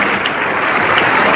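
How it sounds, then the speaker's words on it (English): A large audience at a State of the Union address applauds loudly and continuously, a dense unbroken roar of clapping from a big hall. "Oh my God, enough with the clapping."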